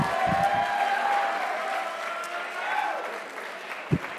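Light applause and a murmuring crowd at an awards ceremony, a soft, steady wash of clapping at moderate distance with a faint tone running beneath.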